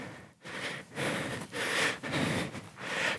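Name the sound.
instructor's heavy breathing during workout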